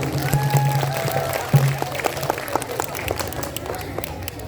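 Scattered clapping from an audience honoring Sahira at an Indonesian gathering, moderate and uneven, mixed with a voice and background hum.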